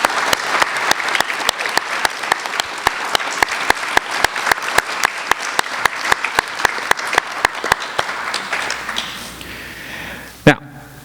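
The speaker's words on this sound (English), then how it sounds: "Let's have a round of applause." A middle school closing ceremony audience applauds the 8th grade class. Steady clapping comes with strong rhythmic claps, likely in unison, that fade near the end, followed by a single sharp knock or thump.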